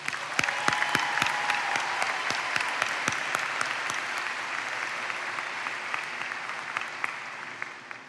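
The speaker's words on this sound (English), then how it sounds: "Please join me in giving these talented students a round of applause." A graduation audience claps steadily for a high school commencement, dense sustained applause with sharp individual claps standing out, gradually thinning and fading slightly toward the end.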